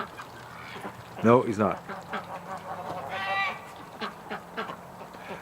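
Ducks at a duck pen honk and quack loudly in a short burst near the start, followed by softer scattered calls, with someone speaking briefly among them.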